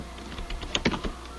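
Several quick, light keystrokes tap on a computer keyboard at close range, irregular and crisp against a quiet room hum.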